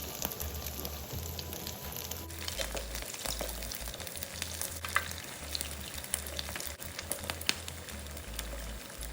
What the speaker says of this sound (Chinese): 糯米卷经油炸后，口感更好。